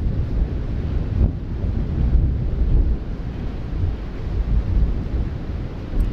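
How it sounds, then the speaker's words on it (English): Steady low rumbling wash of rain-like noise in Costa Rica, with a faint roll of thunder blended into the constant background. "There's gentle rain and thunder."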